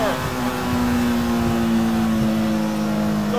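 A custom mid-engine Mini, about 185 horsepower and built to rev to 13,000 RPM, pulls hard in third gear, its loud, steady engine drone filling the cabin throughout.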